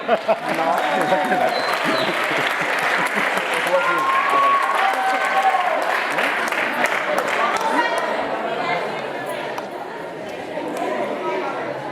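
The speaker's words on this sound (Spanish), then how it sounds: "Un fort aplaudiment!" At a school end-of-year festival at Institut Castellbisbal, the audience breaks into loud, sustained clapping for a singer, mixed with crowd chatter and voices, easing slightly toward the end.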